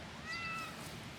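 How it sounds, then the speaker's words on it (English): A pet cat meows once, a drawn-out, clear mew close by, with light room noise around it. "This cat knows exactly to be on film."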